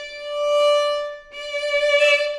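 A violin holds long, steady notes with no vibrato, each tone clean and unwavering, one sustained note followed by a brighter second one, played close and alone.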